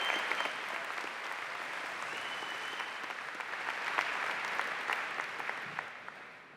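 Sustained applause from a large commencement audience at Ithaca College's 2023 graduation, an even, moderately distant clatter of many hands with occasional louder claps and no talk.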